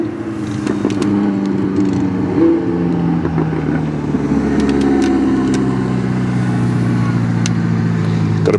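Supercars running on the Curborough sprint course, a steady loud engine drone with shifting pitch as cars pass and rev, continuous throughout.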